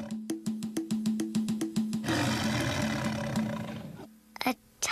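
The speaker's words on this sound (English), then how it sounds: "Can you guess what jungle animal makes that sound? Is it a monkey, an elephant," A loud cartoon tiger roar bursts in after a bouncy, rhythmic plucked-note intro, rumbling for about two seconds before fading into a short, quieter musical sting.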